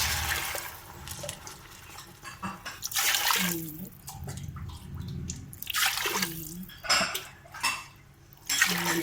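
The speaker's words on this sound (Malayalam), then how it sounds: "10 ഗ്ലാസ് വെള്ളം ഒഴിക്കാം." Water pours steadily into a cooking pot for rice in a few long, splashing runs, with occasional metal clinks of cookware nearby.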